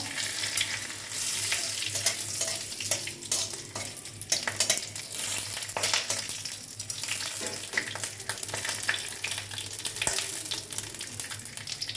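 Bay leaves and white cumin seeds sizzle and fry in hot oil, a steady close crackle with occasional stirring scrapes throughout.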